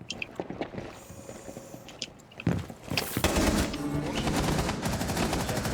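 Gunfire in Rainbow Six Siege, several sharp shots early, then a sustained burst of rapid fire from about the midpoint that stays loud and dense to the end, with faint game sounds between the shots.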